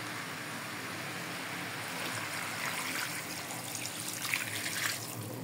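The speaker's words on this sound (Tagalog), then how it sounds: "Tapos lagay natin yung tubig natin." Water pours in a steady stream, splashing and trickling into a cooking pan nearby, swelling slightly toward the end.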